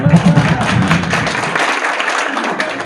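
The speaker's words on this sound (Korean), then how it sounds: "박수 한번 더 쳐주세요" Audience applause at a family camp lecture, a short close burst of clapping that thins out, with low murmuring voices underneath at the start.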